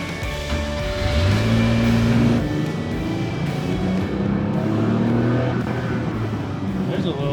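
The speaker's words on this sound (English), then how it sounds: "we had the opportunity to take it out for a shakedown test drive" A 930-generation Porsche 911 Turbo on a shakedown test drive, its engine droning steadily with rising and falling revs from inside the car, while a person talks over it.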